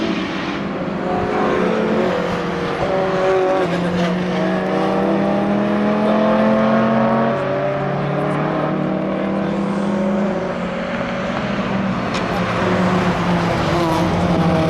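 A Mini race car with the original A-series engine, space frame, fibreglass body and slick tyres runs on a track, its engine rising and falling through gear changes at moderate distance, with a commentator talking over it.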